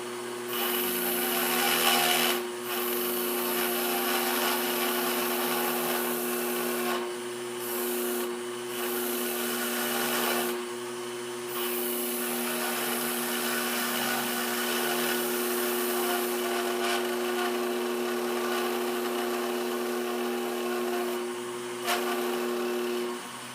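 Close, steady whine of a Dremel rotary tool spinning while a Tamiya mini 4WD tire is pressed against it, with scratchy grinding texture and several brief interruptions.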